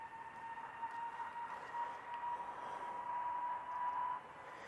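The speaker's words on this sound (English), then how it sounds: "EasyJet now on the roll." An EasyJet jet bound for Geneva is on its takeoff roll at Manchester Airport, heard from a distance as a faint, steady engine whine and roar that holds its level before easing off near the end.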